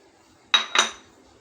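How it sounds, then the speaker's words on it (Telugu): Wheat flour being tipped into a bowl and mixed, heard as two close, sharp clinks of a utensil against the bowl in quick succession, then quiet. "ఇప్పుడు మనం ఇవన్నీ ఒక బౌల్లో వేసేసుకుని కలిపేసుకుందాం."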